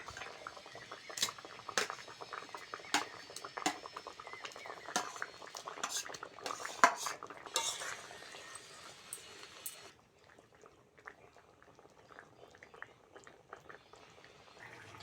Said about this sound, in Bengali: ঝাল ভালোভাবে ফুটে গেছে ভেজে রাখা ডিমগুলো দিয়ে দেবো